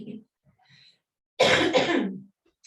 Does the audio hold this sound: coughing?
yes